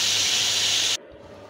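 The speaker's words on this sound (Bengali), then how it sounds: "এই যে মাছটা আমি ভালোভাবে এই যে ভেজে নিতেছি কড়া কড়া করে, সুন্দর করে" Pangas fish frying crisp in hot oil, a loud, dense hiss that cuts off abruptly partway through, leaving a faint background.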